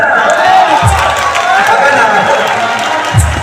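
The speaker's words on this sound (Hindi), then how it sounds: "आप लोग ताली बजाइएगा ना" A crowd claps together at an evening bhajan gathering, a dense, steady wash of hand claps filling the space with scattered voices and bursts of cheering mixed in.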